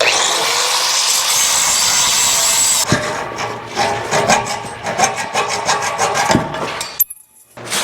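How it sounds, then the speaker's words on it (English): Angle grinder cutting an exhaust pipe on a 1999 Ford F250, a loud steady whining grind for about three seconds, then uneven scraping and rubbing bursts before stopping abruptly. "just gonna cut this last little stupel doop with Nathan's death grinder"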